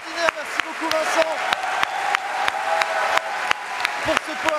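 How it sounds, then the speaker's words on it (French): Steady audience applause at a live French talk-show taping, dense clapping filling the whole stretch with a few sharper individual claps standing out, fairly close and sustained without a break. "Pour ce point, applaudissements de Vincent"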